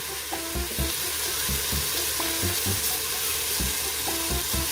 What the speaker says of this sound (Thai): เราก็ผัดหัวหอมไปก่อนแล้วกันนะ